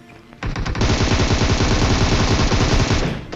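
Rapid automatic gunfire from a video game bursts in after a quiet start and rattles on loud and continuous for about three seconds in a dense stream of shots, without talk.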